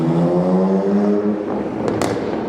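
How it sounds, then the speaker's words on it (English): Loud boy racer cars roar along an urban street close by, their engines droning steadily with a rising rev and sharp crackling pops near the end. "Boy racers everywhere."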